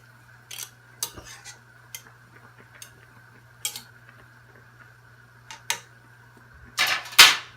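Sharp metal clinks and taps ring out as bagels are flipped in a pot of boiling water in a home kitchen, scattered irregularly over a low steady hum and ending in a louder clatter.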